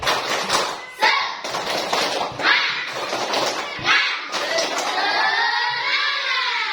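A group of children performing the spirit clap chant in an Indonesian classroom, with loud rhythmic clapping and thumps mixed with shouted voices, ending in a sustained group shout.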